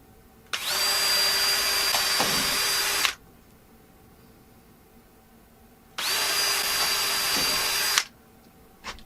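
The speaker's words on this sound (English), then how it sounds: "as always, we'll pre-drill these." A power drill pre-drills screw holes into a kitchen cabinet countertop, two loud steady whirring bursts of about two and a half and two seconds, separated by a quiet pause, with no talk.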